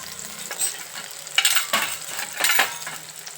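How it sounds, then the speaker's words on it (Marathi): Mustard seeds and tomato hit hot oil in a pan for Puneri misal, giving a soft, crackling sizzle broken by several sharp stirring scrapes and clinks of a utensil against the pan. "आता मी हे चांगलं परतून घेते तर चला त्यासाठी मी मोहरी टाकते थोडीशी"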